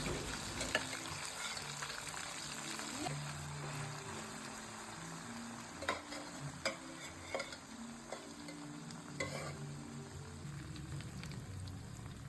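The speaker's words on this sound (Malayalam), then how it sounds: "ഈ വേവിച്ച ബീഫ് നമുക്ക് ഫ്രൈ ചെയ്തെടുക്കണം" Boiled beef sizzles softly in a hot pan while a spoon stirs and scrapes, giving occasional sharp clinks over the steady frying hiss.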